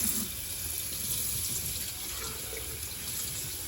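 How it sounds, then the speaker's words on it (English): Water from a tap runs steadily over a Dyson vacuum mop part as it is rinsed in a sink. The splashing is a constant, moderately quiet hiss with no speech. "feel free to just rinse it."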